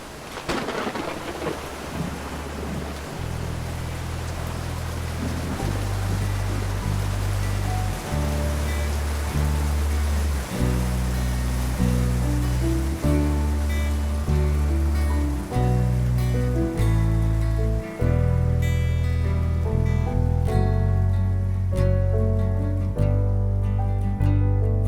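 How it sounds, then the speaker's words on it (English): Heavy rain pours down steadily under low rumbling thunder, a loud, continuous storm wash with deep tonal swells beneath it and no voices. "walking home through a hard rain"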